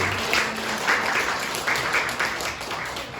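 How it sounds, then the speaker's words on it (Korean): A room of high school students at a church youth service applauds two birthday celebrants, a steady, moderately loud wash of clapping with no talk over it. "큰 박수로 축하해 주시면 감사하겠습니다"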